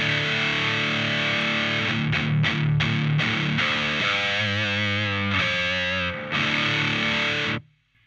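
An electric guitar is played through a DSM Humboldt Simplifier pedal with its distortion engaged, giving loud, saturated sustained chords and choppy strummed bursts, close and continuous, before the sound cuts off at the end.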